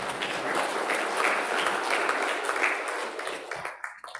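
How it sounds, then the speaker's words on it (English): A congregation at an Igbo Anglican church Sunday service claps together in a sustained, fairly even roar of hands, fading out abruptly near the end. "I want you to clap for yourselves"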